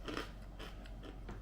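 Homemade cranberry murukku crunched between the teeth, several crisp bites and chews heard close up, quiet and alone.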